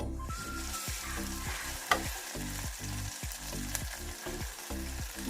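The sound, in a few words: spice paste of ginger, garlic, chili, cumin and coriander sautéing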